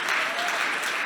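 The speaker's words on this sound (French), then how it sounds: "heureusement que vous applaudissez fort" An awards-night audience applauds loudly and steadily, a dense wash of clapping that runs through the whole moment.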